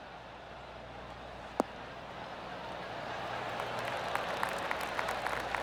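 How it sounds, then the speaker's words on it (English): Golf gallery applause from the video game PGA Tour 2K23 swells softly into scattered, distant clapping after a single sharp click, rising gently over several seconds with no talk over it. "Oh, golf clap."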